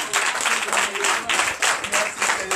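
Congregation at a night deliverance and prophecy church service applauds and acclaims, loud clapping in surging bursts with crowd voices mixed in, filling the whole stretch.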